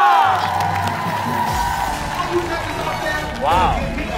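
A studio audience at a Korean TV variety show cheers and whoops for a stunt cheerleading team, the excited crowd noise swelling loudly near the start and again toward the end.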